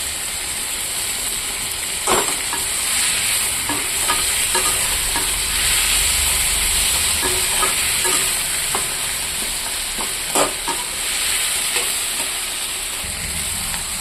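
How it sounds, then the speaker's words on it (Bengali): Chopped onions frying in oil for tomato chutney, with a loud continuous sizzle and hiss throughout, punctuated by occasional clinks and scrapes of a stirring spoon. "উপর থেকে এই পেঁয়াজটাও দিয়ে দেব, কাটা রাখা পেঁয়াজ। একটু তেলে ভেজে দিলাম"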